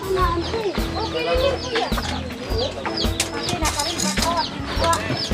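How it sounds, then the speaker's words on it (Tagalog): Chickens cluck and squawk busily up close on a mountain farm, several birds at once in a steady, overlapping chatter with occasional wing flaps and a voice briefly in the mix. "Manok."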